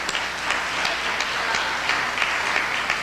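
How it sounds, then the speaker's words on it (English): A room full of people applauding, a dense and continuous wash of clapping that stays steady and fairly loud from start to finish. "let's give ourselves a round of applause"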